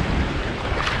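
Ocean waves wash against a pump boat off the Caramoan Peninsula, heard as a dense, loud rush of surf and wind buffeting the microphone. No one speaks during the brief burst.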